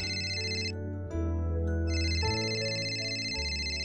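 An electronic phone ringtone plays a repeating melodic pattern of bright tones, with short gaps between phrases, clear and close.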